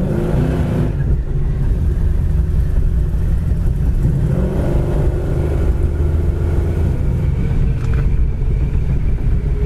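A 1964 Chevrolet Nova drives along a road, its engine a steady low rumble with road noise filling the whole stretch, constant and close.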